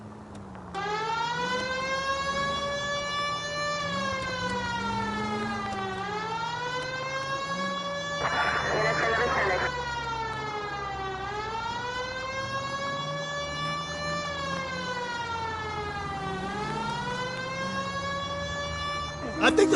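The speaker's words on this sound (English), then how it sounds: "Hit the siren." A wailing police car siren from the game L.A. Noire rises and falls in long, repeating sweeps, loud and continuous, with a brief burst of other noise midway.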